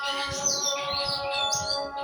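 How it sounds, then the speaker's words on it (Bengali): Small birds chirping rapidly and insistently outdoors as a kitten catches a fledgling, a continuous cluster of bright overlapping tweets, fairly close and loud, with no talk. "কিচিরমিচির করতেছে।"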